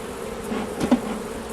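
Honeybees drone in a close, steady buzz at an open flow hive during an inspection, a dense hum with no voices.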